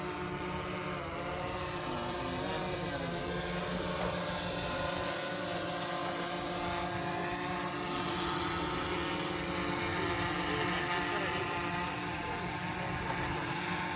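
DJI Air 3 drone in flight on its first outing, a steady whirring buzz of rotors holding constant throughout, fairly close and unbroken, with no voices over it.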